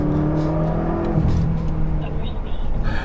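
A BMW M5 launches off the line using launch control, its engine revving hard with a steady rising roar and a little wheel spin, loud and close.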